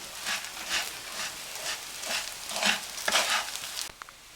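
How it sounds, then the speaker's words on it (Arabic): Spoon stirring salt, pepper, half a spoon of cinnamon and a big spoon of curry into rice in a pot, a soft scraping rhythm of repeated strokes, close and quiet, with no voices. "هنقلب بقى البهارات بتاعتنا مع الرز"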